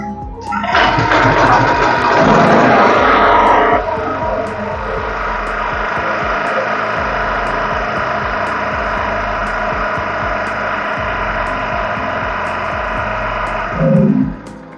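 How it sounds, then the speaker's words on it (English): Brand new petrol generator starting up with a loud rushing roar that settles into a steady, continuous hum with a regular ticking, close and dominant, ending with a brief knock. "So I wanted you guys to hear the sound of the generator"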